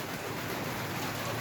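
Rain pours steadily outside a home room during a lockdown, making an even, soft hiss of falling drops with no voices over it.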